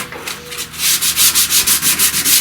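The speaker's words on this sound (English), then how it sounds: "I'm hand sanding with 120 grit" Rhythmic back-and-forth rasping of 120-grit sandpaper by hand on a cyclekart part, about a dozen steady strokes, close and loud with no talking.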